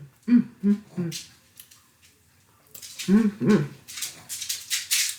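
A pet dog indoors makes several short whimpering, yelping sounds near the start and again in the middle, mixed with kitchen noise and a person talking during a buffalo chicken dip tasting.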